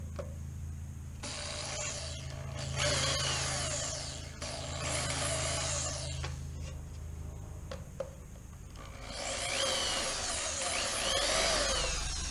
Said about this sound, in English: I'm going to drill this from the bottom